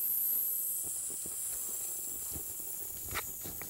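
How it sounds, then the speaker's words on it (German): Steady, close hiss of an eyeSpa eye steamer releasing steam after being filled with water, a continuous airy rush with faint clicks and no talking. "Okay, es dampft auf jeden Fall."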